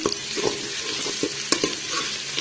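Crushed garlic fries in a pan with a dense, bright, steady sizzle, while a spatula stirs it in a few soft scraping strokes and one sharper clink, close and fairly loud.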